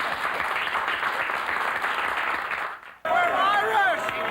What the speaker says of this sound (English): That's the line for applause,